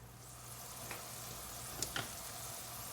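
Ham fat sizzles in an iron skillet, a soft steady crackle and hiss with a couple of faint clinks and a low hum underneath, and no talking.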